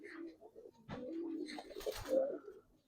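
Giribaz pigeons, a silver pair among old-breed fancy pigeons, cooing in short soft bursts close by, with people talking and bargaining nearby.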